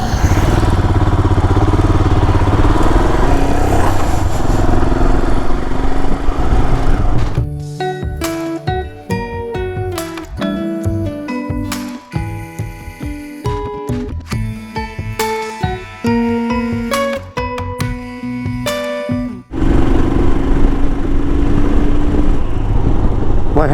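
Motorcycle ride along a road toward Chikka Tirupathi, engine note steady and loud with wind rush, broken midway by a long stretch of tonal music before the engine and road noise return alone.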